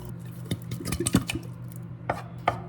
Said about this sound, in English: So I'm just going to add my tomato soup to the pan here.